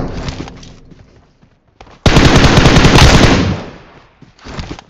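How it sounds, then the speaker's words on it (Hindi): BGMI battle-royale gunfire from behind: a loud, continuous automatic burst of roughly a second and a half, between quieter scattered shots and a brief lull. "लेकिन अचानक से पीछे के साइड से फायर आनी स्टार्ट होती है"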